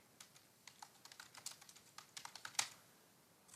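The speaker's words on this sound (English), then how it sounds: "add a headline widget, choose edit, and type your headline" Quiet, close clicking comes from a computer keyboard as a headline is typed into a page builder widget. The keystrokes are irregular, with one sharper strike near the end, followed by a brief pause.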